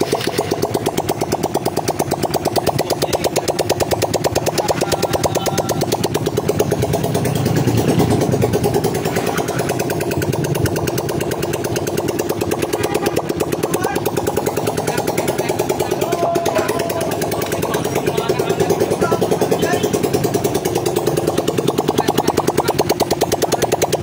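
A Honda TMX Supremo motorcycle engine idles steadily nearby, a continuous low mechanical drone with faint ticking that holds even and unbroken throughout.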